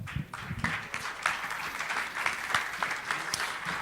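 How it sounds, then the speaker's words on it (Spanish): A conference audience applauds as a speaker is welcomed, a steady round of many hands clapping at moderate distance, even and sustained with no talk over it. "Para este espacio recibimos con un fuerte aplauso al maestro Álvaro Ramírez"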